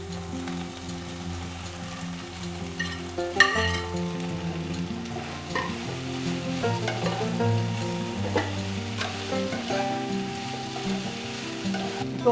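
Fried prawns tossed with softened capsicum in a hot pan for chilli prawn, with continuous crackling sizzle and repeated scraping spatula strokes, including a sharp clatter early on.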